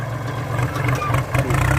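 A tractor engine runs with a steady low, throbbing mid-pitched hum that rises slightly toward the end, with voices partly mixed in.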